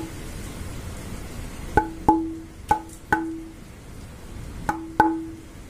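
About six sharp taps on a roughly two-inch piece of pine with its bark still on, each a dry knock with a brief ringing overtone, spaced irregularly over a faint background hiss.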